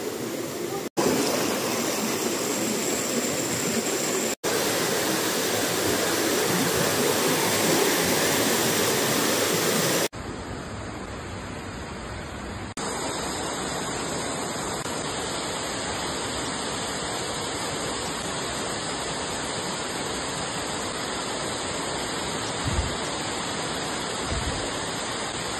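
Mountain stream at Man Cheung Po, water rushing continuously as a dense, steady broadband wash, close and loud, with a few abrupt shifts in level.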